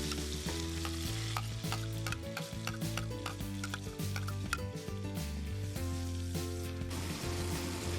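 Garlic and grated tomato pulp frying in a pan for a Spanish rabbit stew from La Mancha, a constant crackling sizzle with repeated stirring scrapes and taps of a utensil throughout, no speech.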